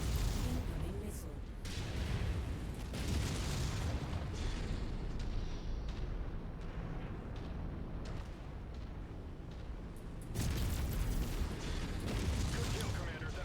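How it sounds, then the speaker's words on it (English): Missile explosions and heavy weapon fire in the MechWarrior 5 mech combat game, a dense continuous roar of blasts and rumbling battle noise with a voice speaking over it. "Incoming missile."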